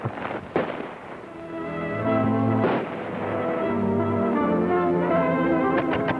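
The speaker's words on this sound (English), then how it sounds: "it sounds like those shots are mighty close to the stage road" Gunfire in a 1941 black-and-white western, several sharp shots spaced irregularly and ringing out over a steady background hum, some distant and some closer, with no talking.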